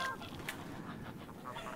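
Geese honking in the video game Knights and Bikes, a few faint nasal honks scattered over a low, busy game background.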